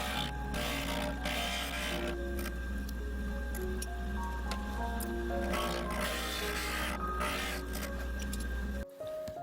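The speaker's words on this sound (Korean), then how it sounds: "특별하게 오목한 것은 스테인드 글라스용 그라인더를 사용하여 갈아줍니다." A stained glass grinder smooths the concave edge of a glass piece for a small hexagonal lamp, producing a continuous motor hum with a wet, grinding whir and faint ticking, steady and close, ending abruptly with no talk.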